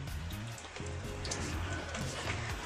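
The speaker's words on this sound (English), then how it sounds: "I will have to wait until it stops raining." Steady rain patters on a surface nearby, a continuous hiss of drops with low rumbling underneath and no voices.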